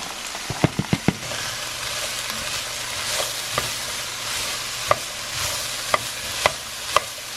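Carrots sizzle in a soup pot as they brown, a steady frying hiss broken by a quick burst of spoon knocks early on and then sparser single clacks of stirring.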